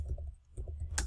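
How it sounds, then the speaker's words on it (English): Keystrokes on a computer keyboard, a quick run of soft, close clicks in an uneven rhythm ending with one sharper tap, quiet and alone. "So I'm just typing this in."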